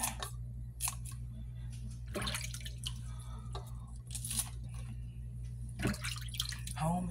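Homemade string beans are rinsed under water in a kitchen: intermittent splashes and drips come in short bursts over a steady low background hum.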